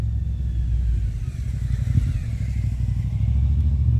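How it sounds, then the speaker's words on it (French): A motorcycle passes by outdoors in a residential street, a low engine rumble that swells and fades with some revving, heard alone at moderate distance. "on a également les motos qui passent"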